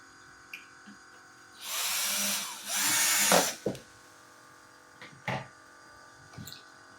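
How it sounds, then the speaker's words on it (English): A power drill bores into the wing of a Top Flite giant P-40 model airplane with its flaps lowered: two close, loud whining bursts back to back, followed by a few small clicks and taps. "I'm going to put the flaps down so I got a little easier getting that drill in there"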